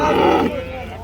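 A single short, loud bleat from a black sheep close by at a livestock market in Jomboy district, Samarkand region, lasting about half a second before trailing off into quiet.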